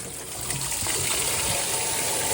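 Water gushing under fair pressure out of a farm irrigation pipe in a maize field, a loud, rushing, continuous blast that swells slightly after the start and carries on steadily with no voices.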